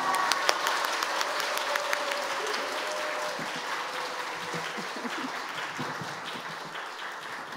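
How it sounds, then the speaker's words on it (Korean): A church congregation applauds steadily through a Sunday afternoon service, dense clapping sustained throughout with faint scattered voices and cheers beneath it. "다 같이 우리 할렐루야로 크게 외치시고 박수로 환영하겠습니다"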